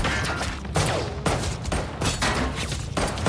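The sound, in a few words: gunfire in a gangster shootout from a film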